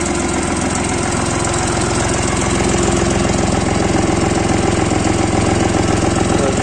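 A Jinma 244 tractor, straight from the field, idles steadily with a close, loud, even diesel rumble and fast mechanical knock, running alone throughout with no voices.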